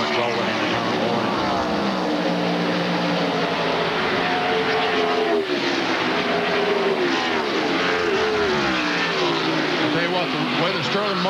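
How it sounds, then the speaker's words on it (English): Stock cars in a 1996 NASCAR Winston Cup road-course race at Watkins Glen roar past with a continuous loud, shifting engine drone, while a commentator speaks over it throughout. "Kenny Wallace going down the front straightaway here"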